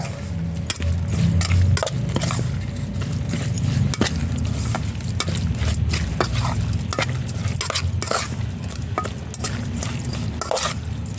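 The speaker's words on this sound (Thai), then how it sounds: "ใส่ข้าวคั่วกับพริกป่นเครื่องปรุงเข้ากับเนื้อครับ ครับ คลุกเข้าให้เข้ากันครับ" Minced beef being tossed and mixed by hand with toasted rice powder and chili powder for the Thai dish koi, giving a steady, wet, squishing stir dotted with light clinks from a bowl or utensil.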